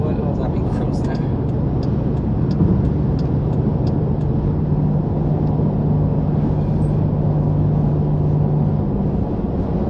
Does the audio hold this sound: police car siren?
no